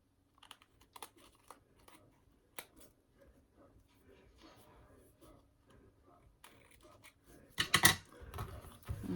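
Scissors cut paper card for a scrapbook album with a few soft, crisp snips and clicks, close and quiet, ending in a louder cluster of cuts, with a faint voice in the background.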